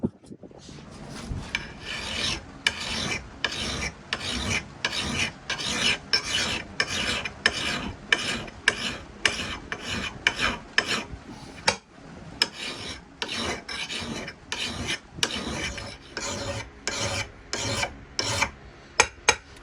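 A file rasps along the edge of a Michigan axe in steady, rhythmic strokes, close and loud, each pass a harsh scrape repeated many times without speech.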